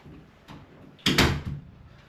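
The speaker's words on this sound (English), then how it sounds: "let me just shut the door" A door is shut indoors with a single firm thud and rattle, preceded by a softer handling sound and followed by a brief settling knock.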